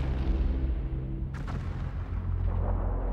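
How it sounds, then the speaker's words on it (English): World War I artillery barrage: a sustained, heavy low rumble of distant guns with a sharper blast or burst near the middle, continuing as a dense roar throughout. "They count on a massive 7-day artillery barrage to eliminate the machine guns"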